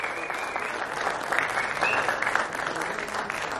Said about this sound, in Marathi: दोघांसाठी जोरदार टाळ्या झाल्या पाहिजेत